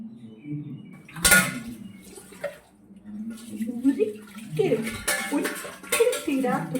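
Dishes are washed by hand in a home kitchen. Pots and cutlery clatter in sharp, irregular knocks and scrapes over running, splashing water, with several loud clanks standing out.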